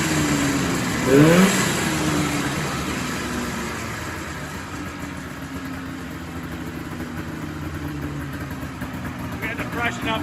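A vintage Jag snowmobile engine with a freshly resealed top end idles steadily and fairly loud throughout, with a brief rev near the start and people talking over it.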